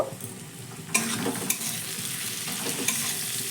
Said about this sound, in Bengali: তো এইসব মশলা দেওয়ার পরে আবারও ভালো করে মিশিয়ে নেব